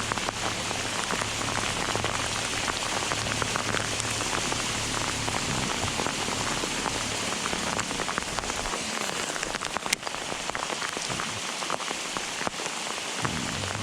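Hail pelting the water and a small fishing boat on the Delta during a storm, a dense, steady hiss and patter filling the whole stretch with no voices.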